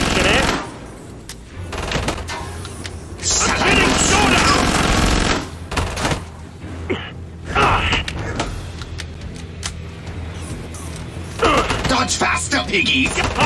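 Automatic and repeated gunfire in the zombie shooter Killing Floor 2, loud and dense bursts with clanking mechanical noises, mixed with game voices and chaotic combat sounds throughout.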